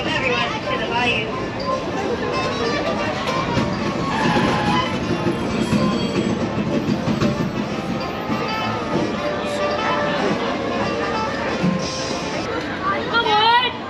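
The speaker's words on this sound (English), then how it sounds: "remember to remain fully seated until the train does come to that full and complete stop" The Disneyland Railroad train rolls along the track with a continuous rumble and rattle, faint wheel squeals and clacks under it, while an announcer and a crowd are heard talking over the ride.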